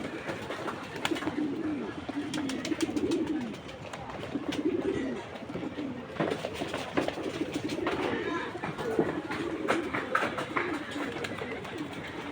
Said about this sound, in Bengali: বেশ কিছু কবুতর